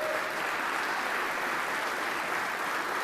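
Applause fills a legislative chamber during a governor's State of the State address, a dense, even roar of many hands clapping heard somewhat distant and steady for a few seconds.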